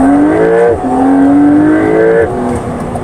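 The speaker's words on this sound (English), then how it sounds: "a little bit of a overrun sound when you let off the gas" Porsche with an upgraded exhaust in second gear and sport mode, engine note rising under throttle, then dropping with a burbling overrun as the gas is released, loud and close.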